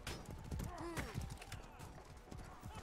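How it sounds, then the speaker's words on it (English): Horses in the medieval combat game Mordhau: steady clip-clop of hooves running on the ground, with an occasional whinny, heard under ongoing speech from players. "There's so many horses around here."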